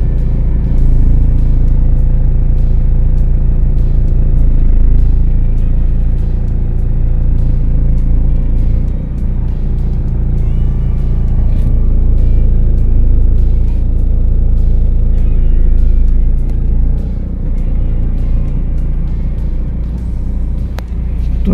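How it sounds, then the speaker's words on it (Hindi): A Renault Duster pulls away in first gear as the clutch is slowly let out with no throttle, giving a steady, loud low engine rumble that stays even and close throughout. "क्लच को धीरे धीरे धीरे छोड़ता हूँ। तो देखो गाड़ी आगे निकलना स्टार्ट हो गई है"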